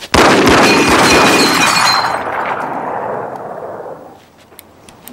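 Glass targets shattering loudly up close after a shot, a sharp burst followed by tinkling, ringing shards that fade out over several seconds.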